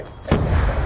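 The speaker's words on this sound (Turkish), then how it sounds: "Şuradan da bir bomba." A grenade explosion in Call of Duty Black Ops 2, a single sudden loud blast hitting after a quiet moment and then trailing into a rumbling, debris-filled decay.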